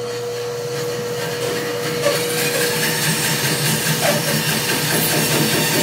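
A saw cuts the end off a log of freshly cut green wood, a steady harsh rasping that holds throughout with a rhythmic scraping texture beneath it, loud and close.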